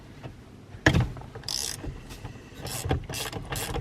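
An 8 mm hexagon tool working the steering wheel bolt on a Saab 9-3, giving a sharp metallic knock followed by several short bursts of ratcheting clicks, close up and with no talking.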